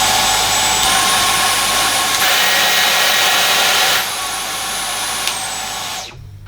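A Dyson V10 Animal cordless vacuum runs at maximum suction, a loud steady whine and airy roar held close for several seconds, stepping slightly in pitch before cutting off abruptly at the end.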